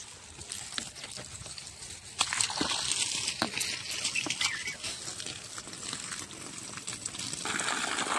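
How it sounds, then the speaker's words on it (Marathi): Water splashes and gushes onto the soil around a dried-out lemon tree, a soft uneven pouring with patters that grows a bit louder partway through. "पण आपण पाणी तर देऊन बघूया पूर्ण."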